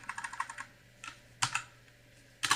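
Rapid keystrokes on a computer keyboard while entering shortcuts in a code editor: a quick burst of clicks, a single tap, then two more short clusters, close and fairly quiet with no talking.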